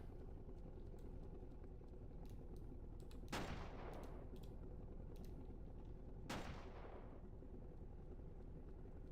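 Gunfire in a video game battle crackles faintly in the background, with two heavier blasts standing out a few seconds apart among scattered distant shots.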